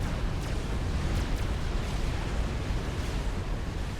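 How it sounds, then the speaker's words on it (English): Heavy explosions pound a giant Megalith unit during a Supreme Commander: Forged Alliance battle, a dense continuous low rumble with a few sharper bursts over roughly four seconds. "As the fire rains down on the megalith, the explosions taking their toll on that gigantic frame of a unit."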